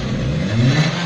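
A Suzuki Cultus with an automatic M13 engine revs up from idle as the throttle is pressed, producing a loud, steady mid-pitched engine roar that swells slightly toward the end.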